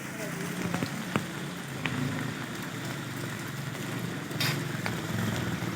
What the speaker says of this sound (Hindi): हो रही है हल्की हल्की बारिश शुरू है